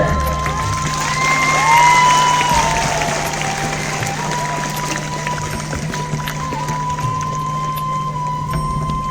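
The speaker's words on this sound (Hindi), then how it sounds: "बच्चों से आग्रह है कि जोर तालियां बजाएं" Loud, steady applause and cheering from a crowd of children at an outdoor student archery event, a dense unbroken clatter of clapping lasting the whole stretch with a faint tone running beneath.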